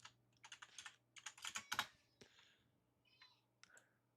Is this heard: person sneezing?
no